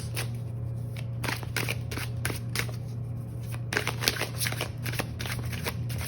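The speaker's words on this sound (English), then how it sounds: "Let's pull some oracle cards." Oracle cards shuffled by hand in a steady, close run of crisp riffling flutters and snaps, continuing without pause over a low background hum.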